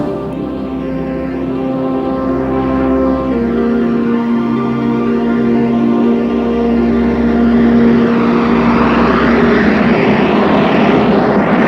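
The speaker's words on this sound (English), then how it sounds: "the 747's crew decided to attempt a takeoff" A Boeing 747, the 317-ton, 16-wheeled largest passenger aircraft, takes off on a cloudy day: a loud, steady jet engine drone swells into a broad roar toward the end, heard alone without voices.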